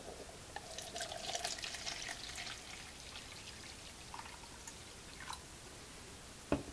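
Film fixer chemical poured from a bottle into a container in a darkroom developing setup: a light splashing trickle for a few seconds, then scattered drips and a sharp clunk at the end.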